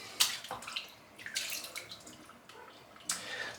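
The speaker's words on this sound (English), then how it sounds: "Just rinse the soap out now, and that's it done." Tap water runs and splashes in short bursts while shaving soap is rinsed from a brush or bowl, close and fairly quiet, with a few louder gushes and no talking.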